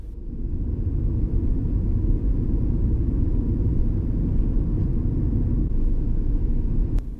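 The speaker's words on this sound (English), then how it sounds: "we enter the roundabout, stay in the outer lane, and accelerate up to speed" A car accelerates onto a roundabout in the outer lane, its engine a steady, loud low rumble that holds evenly throughout, with no one talking.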